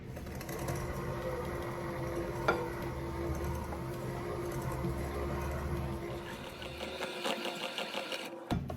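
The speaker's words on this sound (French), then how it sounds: "On va crémer du beurre avec du sucre" Butter and sugar being creamed for a lemon cake with an electric mixer, a steady motor whir running throughout, close and unbroken, with a brief clink partway through and the motor cutting out near the end.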